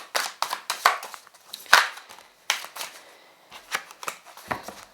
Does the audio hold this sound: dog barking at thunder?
no